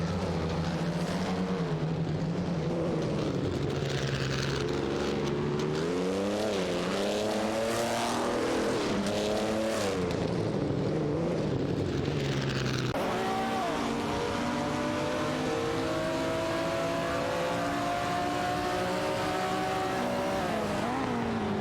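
Race cars, Ferraris among them, scream through an AI-driven racing video game: a constant, loud engine howl with rising and falling pitch as the cars shift gears, accelerate and round corners, with no pause.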